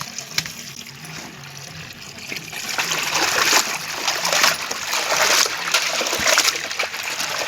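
Water splashing and trickling steadily as cleaned rock fish are rinsed in a vessel, a continuous close wash of running and sloshing water that grows busier partway through.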